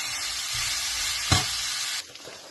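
Onions and green chillies sauté in oil for a Jaffna-style sambar, a steady close sizzle with one sharp stirring knock before the frying noise drops away to quieter hissing.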